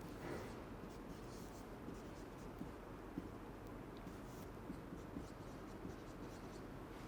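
A pen or marker scratches steadily as an answer is written out during a chemistry lecture, faint continuous strokes over a low background hum, with no talking.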